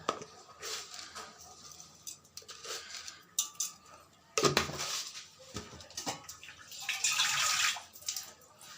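Water splashes and pours into a pot while cooking mutton biryani in a kitchen, amid clinks of pots, with a louder gush near the end.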